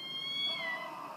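A house cat gives a single soft, faint meow indoors, brief and alone against quiet room noise.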